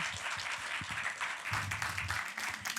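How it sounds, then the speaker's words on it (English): Applause from an audience at a distinguished speakers series lecture, faint and somewhat distant, with scattered claps thinning then swelling again. "a round of applause, you did so well"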